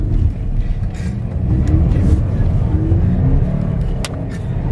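A Toyota 86 drives on a wet road, its engine a steady close rumble with tyre and road noise throughout, no clear revving, recorded from inside or alongside the car.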